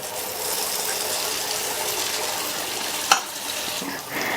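Sweet appam batter fries in hot oil in a kadai over a medium flame, giving a continuous loud sizzle with one sharp click partway through.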